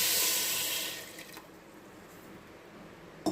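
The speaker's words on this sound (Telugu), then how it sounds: "వాటర్ పోసుకోవాలి" Water is poured into a pan of jaggery in a single loud splashing stream that lasts about a second, then stops and leaves near quiet with a faint clink at the end.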